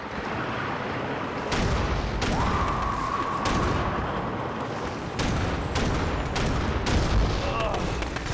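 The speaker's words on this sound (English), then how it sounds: "All those shots and none of them hit it." Gunfire aimed at bombs in the Wii shooter Red Steel, a dense, loud stretch of repeated booming shots and blasts in quick bursts under a continuous rumbling game soundscape.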